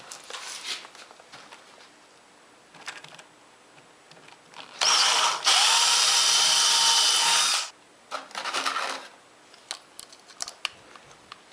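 A power drill driving 1-inch panhead screws while a scrap bin is built for workshop cabinets, with a loud steady whir of nearly three seconds, short bursts before and after, and lighter handling clicks around it.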